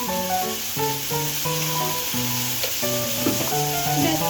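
Spice paste with ground coriander, cumin and a little sugar fries in oil with a steady close sizzle, partly beneath background music.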